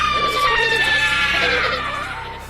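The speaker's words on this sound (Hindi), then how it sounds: "चुड़ैल को देखकर सभी यात्री चिल्लाने लगते हैं।" Passengers on a haunted ship in a horror film scream together at a witch, a loud, sustained wall of overlapping shrieking voices that fades slightly at the end.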